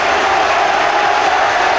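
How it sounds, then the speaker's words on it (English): Aberdeen fans at a 1997 League Cup semi-final against Dundee United cheer and applaud a goal in one loud, unbroken crowd roar that holds steady throughout. "Less than 3 minutes of the second half gone, and the Aberdeen fans celebrate."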